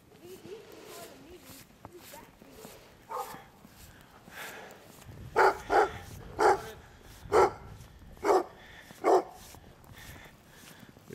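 Dogs bark outdoors in deep snow during an Ohio winter, six loud, evenly spaced barks close by, with people talking faintly around them.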